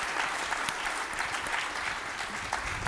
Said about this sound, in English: hope you guys just give these guys a nice round of applause